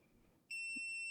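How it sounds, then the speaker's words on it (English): A handheld diamond tester gives a sharp, steady electronic beep when its probe touches metal while checking Temu moissanite jewelry, with faint background hiss before the tone starts and holds loud to the end. "Whoops, I touched metal. That's why it beeped."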